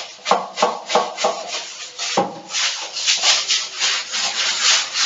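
Scrubbing in a bathroom shower area during cleaning, a steady rhythmic brushing and rubbing with repeated strokes, close and fairly loud, continuing alone without talk.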